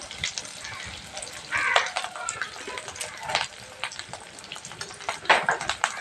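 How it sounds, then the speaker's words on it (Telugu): Curry leaves crackle and sizzle in hot oil left over from frying, for a prawn and ridge gourd curry. Sputtering bursts rise and fall across the stretch, with a few sharper pops standing out. "ఇప్పుడు ఫ్రై చేసుకున్న ఆయిల్లోనే కరివేపాకు"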